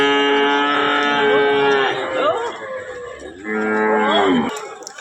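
A cow and her calf at a village cattle market give loud, drawn-out moos, one long call followed by another after a short pause, close and clear over a faint crowd murmur.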